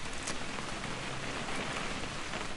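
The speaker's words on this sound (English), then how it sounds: "It's gonna rain the whole weekend, isn't it?" Steady rain patters densely and evenly throughout, with no voices over it.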